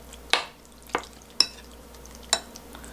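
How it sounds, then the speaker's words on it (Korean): Seasoned japchae ingredients pressed and mixed with a spoon in a bowl, giving four sharp, separate knocks and scrapes at uneven intervals, close and fairly loud with quiet gaps between, no talking. "굳이 손으로 안 주물러도 이렇게 숟가락으로 이렇게 꾹꾹 눌러 놓으면"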